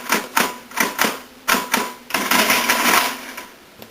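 Number keys are pressed on a FACIT CA1-13 mechanical calculator. Loud, close mechanical clacks come one at a time in a quick rhythm, followed by a denser rattling run of the mechanism that trails off.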